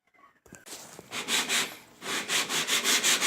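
Rhythmic, raspy strokes of 80-grit sandpaper on aluminum from an outboard motor, close and fairly loud, repeating in quick back-and-forth passes after a short quiet start.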